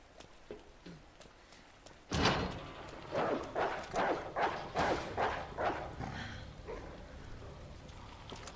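A dog barking in Resident Evil 2, a fast run of loud, rhythmic barks that starts abruptly and then tapers off, near and alone.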